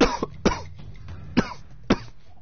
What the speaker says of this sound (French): Je tousse comme un porc.